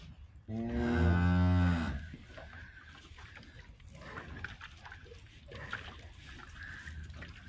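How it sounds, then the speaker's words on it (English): A young heifer calf, a twin, gives one loud, close moo lasting over a second, followed by quieter rustling and faint trickling sounds. "Just having to give this little calf some milk."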